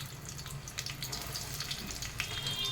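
Chopped onions sizzle in hot oil in a pan for Telugu-style bagara rice. The hiss is soft, steady and continuous, with faint crackles and no talk over it.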